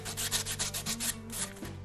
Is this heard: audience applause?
no